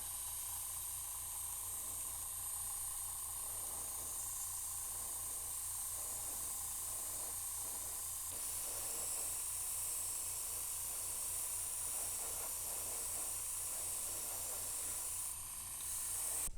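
A rattle can of Testors metallic green spray paint hisses in a continuous close spray, broken by brief pauses and small changes in pressure, with no talking.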